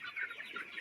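Young broiler chickens on a poultry farm, about seventeen days old, make a steady, dense chorus of clucks and chirps that runs without a break and sounds close to the listener.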